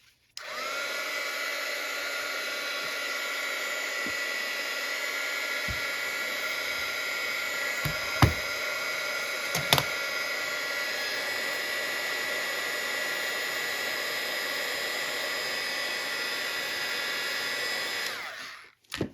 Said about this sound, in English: I'm going to put clear embossing powder on there and heat set that